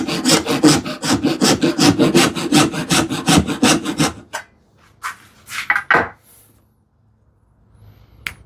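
A hand rasp files wood in a woodworking project, giving about a dozen and a half quick, rhythmic scraping strokes up close, then a few slower, separate rasps with quiet gaps between them.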